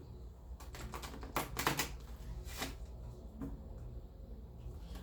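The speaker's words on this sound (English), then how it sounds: "I'm actually going to shuffle this for you guys" A Doreen Virtue Life Purpose tarot deck is shuffled by hand, giving quiet, close riffling and card-slapping bursts in a cluster near the start, then softer scattered taps in a hushed room.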